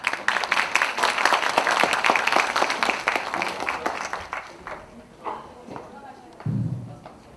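Audience at a Justice Party deputy-leader candidates' joint campaign rally in Incheon bursts into applause to welcome a candidate, dense clapping that thins out into scattered claps and thuds, with a voice speaking at the end.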